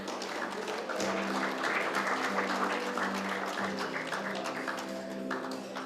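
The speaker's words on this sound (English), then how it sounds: "let's give the dignitaries a big round of applause" A crowd applauds steadily for several seconds, a dense wash of clapping at moderate volume with faint voices beneath.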